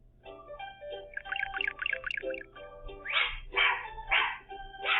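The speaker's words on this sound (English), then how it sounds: "Dog." A dog barks and yips in short bursts, starting with quick high yelps and moving into louder, fuller barks near the end, close and clear with no talking.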